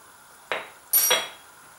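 Washed rice poured into a cooking pot for a Tunisian rice and fava bean dish, coming as two quick rattling swishes of grains hitting the pot, close and moderately loud with no talk.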